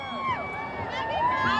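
A Capital Pride Parade crowd cheers and whoops close by, with rising and falling shouts and excited voices blending into a steady, lively roar.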